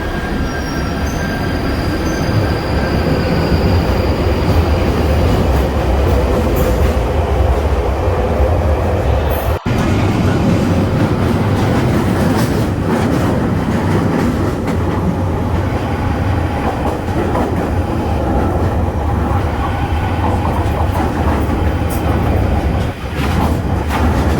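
A London Underground train runs on metal wheels, a loud continuous rumble with squeal and creak throughout, steady and close, broken by one sharp click partway.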